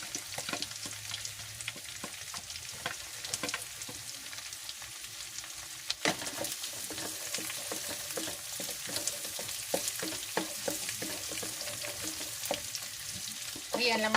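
Onions sautéing in a pan for Filipino mung bean stew (ginisang monggo), with ginger already added, a steady soft sizzle with scattered stirring clicks and scrapes throughout.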